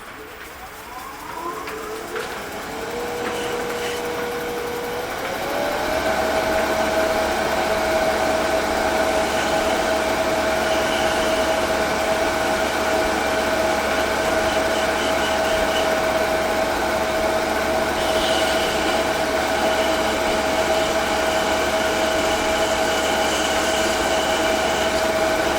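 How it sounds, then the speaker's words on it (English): A walnut pawn is sanded with sandpaper while spinning on a wood lathe, giving a steady loud motor whine with a constant tone and a faint rushing abrasion throughout, with no talking. "Pretty much rounding this over with sandpaper because I was unable to do it with the spindle gouge."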